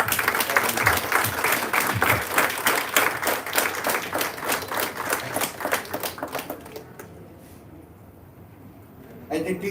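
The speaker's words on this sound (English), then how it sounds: "A big clap." A room full of people claps steadily for about seven seconds at a foundation presentation, crisp rhythmic hand claps close by that thin out and fade, leaving near quiet before a brief noise at the end.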